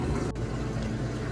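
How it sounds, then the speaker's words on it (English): A steady, low churning rumble drones on evenly throughout, like a washing machine running nearby. "Sorry about the laundry noise"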